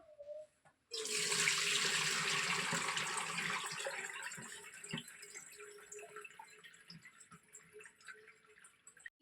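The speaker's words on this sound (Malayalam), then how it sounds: "പാത്രത്തിൽ ഈ വെള്ളം ഒന്ന് കളയാം" Water is tipped out of a cooking pot in a kitchen, a sudden loud gush that starts after a brief pause and then tapers into quieter trickling and drips, with no speech.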